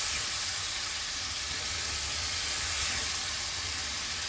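Grated tomato hits a hot pan in a vegetarian korma with no onion or garlic, giving a loud, steady sizzle and hiss that holds without a break, close up and with no talk over it.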